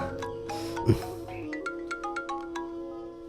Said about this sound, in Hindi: अरे फोन उठा के बात करना।